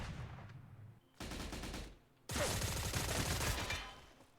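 Video game gunfire in PvP combat with an HK G3A1 rifle: several loud bursts of rapid automatic shots in close succession, with short gaps between them and a longer, sustained volley at the end.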